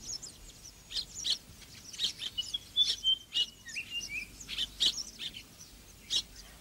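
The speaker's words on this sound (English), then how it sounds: "Perhaps one of the most unusual nest builders is the African weaver bird." African weaver bird calls, a busy series of sharp chirps and high squeaky tweets repeating irregularly at fairly close range, with no other sounds over them.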